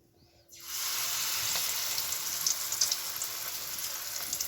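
Stale bread dipped in egg and flour drops into hot oil, starting a loud, steady broadband sizzle that continues unbroken with small crackling pops after a brief quiet start.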